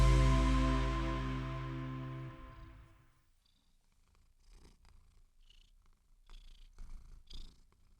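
A cat purrs close to the microphone, a loud rumbling purr that fades out over a few seconds, followed by quiet soft rustling.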